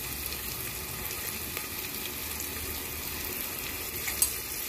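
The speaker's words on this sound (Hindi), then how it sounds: "अब हम इसमें ये चॉप टमाटो ऐड कर रहे हैं।" Chopped tomatoes sizzle in a hot pan while cooking green moong dal khichdi, a steady, even frying hiss with a faint click near the end.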